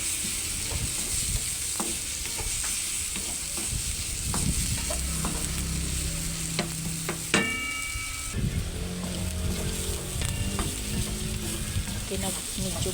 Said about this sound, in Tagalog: Gisa lang natin ng mabuti, guys, para mag-golden brown. Ang ating mga aromatics.